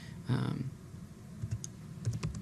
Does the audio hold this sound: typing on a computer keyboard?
yes